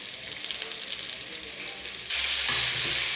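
Browned onions fry quietly in a pan, then potatoes are dropped in and the sizzle jumps to a louder, steady crackling hiss with some stirring.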